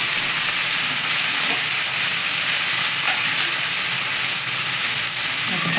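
Chopped tomatoes frying with salt in a hot pan for soyabean bhurji, a loud, steady, close sizzle and hiss that carries on without a break.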